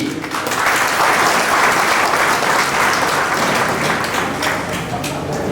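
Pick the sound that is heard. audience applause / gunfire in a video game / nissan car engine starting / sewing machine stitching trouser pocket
audience applause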